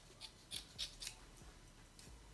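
Scissors snip through curly deep twist crochet braid hair in a few quiet, quick cuts, close up against a faint background hiss.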